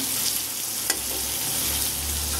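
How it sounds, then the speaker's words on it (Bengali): Prawns sizzle steadily in hot oil in a pan, a continuous close hiss with one brief sharp pop near the start and a low background hum, no voices. "চিংড়ি মাছগুলো ভেজে নিলাম"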